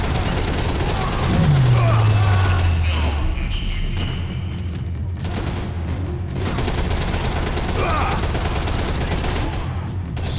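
Gunfire in the Max Payne 3 video game: rapid bursts of shots with booming impacts and a descending whoosh, loud and continuous, with a voice talking underneath.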